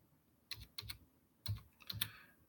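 Sparse clicks of keys being tapped on a computer keyboard, a few separate keystrokes close by in an otherwise quiet room.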